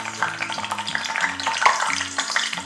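Green chillies frying in oil for cabbage 65, a steady close sizzle with light stirring and scraping, continuous and moderately loud with no talk over it.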